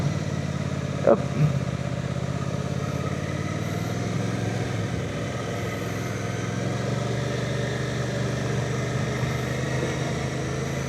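Suzuki V-Strom 800DE motorcycle being ridden: a steady engine drone with wind rush throughout, holding an even pitch with little change in revs.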